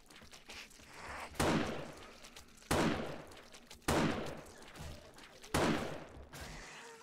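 Sniper rifle shots in the video game 7 Days to Die, console version, on a horde night: four loud, sharp cracks spaced about a second and a half apart, each with a long decaying tail over a steady background rumble.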